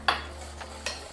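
A whisk clicks against a bowl holding milk and half and half, giving two or three brief, faint metallic taps.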